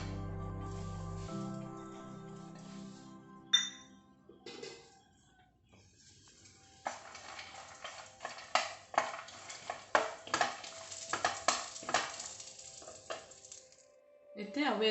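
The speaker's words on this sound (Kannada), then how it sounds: "ಗೋಡಂಬಿ ದ್ರಾಕ್ಷಿ ಫ್ರೈ ಮಾಡ್ಬೋದು." Cashews and raisins fry in ghee on a tava for rava unde, giving a crackling sizzle with scraping and stirring clatter that starts after some tonal sounds and persists at moderate loudness until the end.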